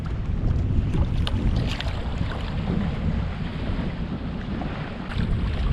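Gusty wind buffets the microphone continuously while kayak fishing a large lake in heavy wind, with low rumbling gusts and water chop around a PDL 106 kayak throughout, no talking.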